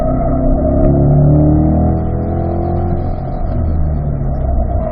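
A Corvette engine drones loud and close on a driving-school track, holding steady throttle with a low rumbling tone that eases slightly partway through.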